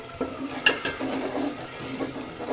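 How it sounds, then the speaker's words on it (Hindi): Masala fries in a pan at home while a spoon scrapes and stirs it, giving a close, soft sizzle broken by a few quick clinks and scraping strokes. "4 से 5 मिनट तकरीबन मसाला भूनते हुए हो गया"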